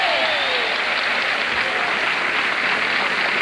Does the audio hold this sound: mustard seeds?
no